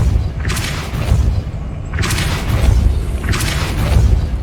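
Depulso spell cast in Hogwarts Legacy, a video game, in hard mode: three loud, booming magical blasts with thumping low rumble, spaced about every one and a half seconds, no voices.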